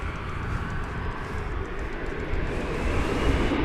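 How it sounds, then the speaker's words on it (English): An airliner from Santa Ana flying over Founders Plaza at DFW Airport, a loud steady jet roar with low rumble, building slightly as it passes overhead. "here comes the flight from Santa Ana. Flying over our perch here at Runway DFW Founders Plaza"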